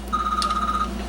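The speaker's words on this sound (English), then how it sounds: "Uh-oh, there's the bat phone." A telephone rings in a workshop during restoration of an RCA Victor AM phonograph, a single sustained electronic ring lasting under a second, moderately loud with low hum beneath and no talking.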